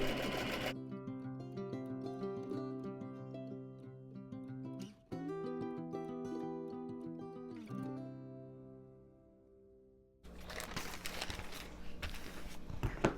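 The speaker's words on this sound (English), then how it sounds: "I'm going to sew this piece on the new selvage on right along the white edge" Sewing machine stitching a quilt-block fabric piece onto a selvage strip along its white edge, a steady mechanical whir in bursts with brief pauses, then a louder rattling run near the end, close by with no talk.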